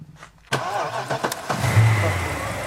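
A Mercedes E63 engine cranks and catches abruptly after a quiet moment, then settles into a steady rumbling idle.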